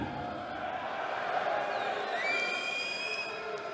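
A darts crowd at a PDC European Tour match in Riesa keeps up a distant murmur of cheering, with a few thin rising whistles cutting through near the end, all fairly faint.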